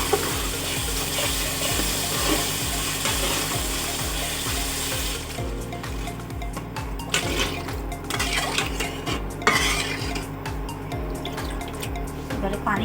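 Water poured into a pan of fried masala for a pangas fish curry, a loud hissing sizzle that settles into bubbling and dripping, with a voice briefly heard.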